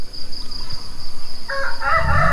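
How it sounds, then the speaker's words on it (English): A rooster crows early in the morning in Thailand, a loud nearby call that rises in the last second over steady background noise and an insect-like hum. "then you got the cockerel, but it's early"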